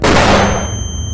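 A single loud, sharp blast of a grenade explosion bursts out and quickly decays into a rumbling tail.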